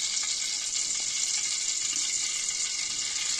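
Oil heating in a wok-style pan on the stove gives a steady, soft hiss and faint sizzle throughout, close and unbroken, with no voices.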